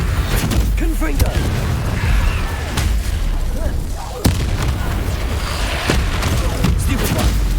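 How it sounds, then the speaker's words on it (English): A Confringo spell from the Hogwarts Legacy video game bursts in a sharp explosive boom amid ongoing combat noise, with several pops and cracks and a voice talking over the action. "Confringo!"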